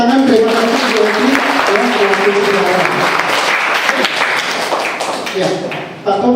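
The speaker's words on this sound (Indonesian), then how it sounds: "Kita kasih tepuk tangan" A room full of people applauds steadily, dense clapping throughout with voices mixed in underneath.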